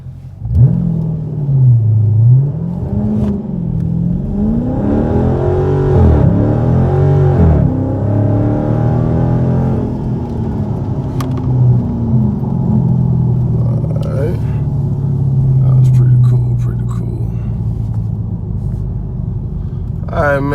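A Dodge Charger ScatPack sits on launch control with the engine held near 2,500 RPM. The revs climb and fall in sweeping surges over a steady low rumble, recorded from inside the car.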